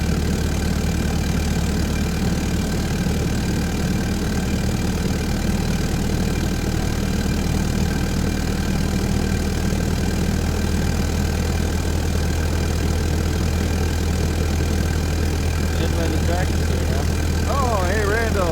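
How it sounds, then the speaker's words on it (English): A car engine idles steadily while warming up, a constant low rumble with a slight uneven throb that holds for the whole stretch, with brief fainter sounds near the end. "I think my engine's getting warmed up."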